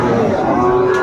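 At a cattle market where Sahiwal bulls are bought and sold, one animal gives a single loud, drawn-out low moo, close by and filling the whole moment.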